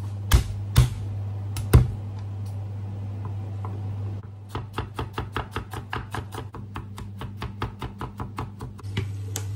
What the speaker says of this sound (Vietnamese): Chỗ hành tỏi này thì mình băm để mình làm sốt.